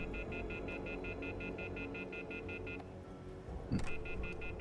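Repeated telephone dial tones and beeps from a phone in the video game Deus Ex: The Fall, a steady pulsing electronic pattern over a low game soundtrack, briefly interrupted by a louder thud near the end.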